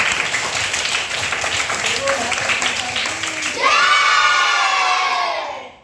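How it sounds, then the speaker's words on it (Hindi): Schoolchildren in a Hindi language class clap and cheer loudly together, a dense crowd of young voices shouting over the applause before it swells and fades out. "जबरदस्त ताली बजाइए"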